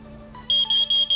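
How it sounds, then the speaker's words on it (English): A household smoke detector alarm sounds in a series of loud, piercing high-pitched beeps repeating in a steady rhythm, close and clear with nothing else over it. "our friendly smoke detector goes off"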